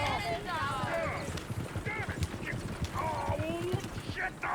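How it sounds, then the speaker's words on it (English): Horses' hooves clip-clop in a steady rapid rhythm in the Red Dead Redemption 2 game, loud and continuous, while voices talk over them. "Oh, shit, the horses! Damn horses!"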